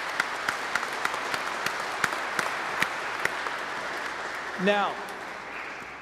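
Applause from a church congregation during an Easter Vigil Mass, a steady wash of clapping from many hands filling the space, with a brief spoken word from a voice near the end.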